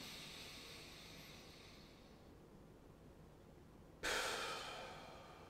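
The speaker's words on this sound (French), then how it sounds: "Et je respire." Slow, deep breathing during a guided breathing exercise: a long, soft airy exhale fades out, then after a quiet pause comes a sudden louder, close breath that gradually tapers, with no speech.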